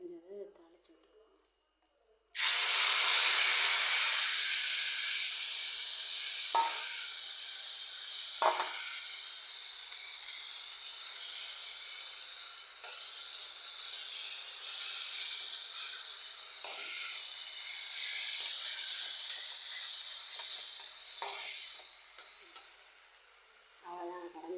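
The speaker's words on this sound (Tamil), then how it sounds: "கத்திரிக்காய் கடைஞ்சது தாளிச்சு விட்டுருவோம்." Tempering spices for a mashed brinjal dish burst into a loud sizzle that settles into steady frying hiss, broken by a few stirring clinks, with talk faintly before and after.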